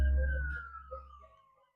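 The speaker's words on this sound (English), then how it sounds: "There goes the ambulance as I was talking about the death." An ambulance siren wails with a long falling tone, fading as the vehicle drives past and away; no one speaks.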